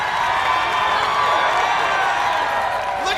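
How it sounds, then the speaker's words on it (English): A large crowd at a live athletic competition cheers and roars continuously, a dense, loud wash of voices and whoops filling the whole stretch. "Look at the crowd, they're getting excited."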